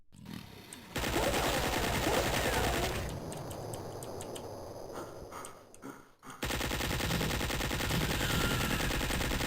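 Dense gunfire from the video game Duke Nukem 64, rapid repeated shots running almost continuously at a steady loud level, briefly thinning in the middle before resuming.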